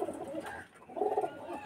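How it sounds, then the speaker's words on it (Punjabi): A pigeon coos softly nearby, two low throaty phrases separated by a brief pause, faint against a quiet background with no talking. "ਅਤੇ ਇਹ ਉਹ ਪੂਰਾ ਕਬੂਤਰ ਹੈ"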